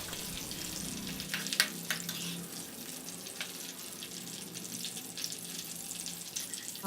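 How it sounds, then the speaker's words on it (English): Slit green chillies and curry leaves fry in hot oil for a basic Indian chicken curry, giving a steady, soft crackle and sizzle with a few sharper pops. "Take 4 green chillies which are slitted into 2 and let them fry for 2 minutes"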